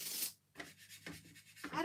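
Rubbing across a wooden craft kit piece to smooth it gives soft, breathy scraping strokes, a few in an uneven rhythm with brief pauses between them, close and faint.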